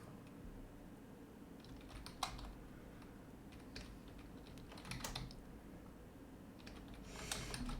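Computer keyboard typing in scattered bursts of keystrokes, fairly faint over a steady low background hum, with no talking.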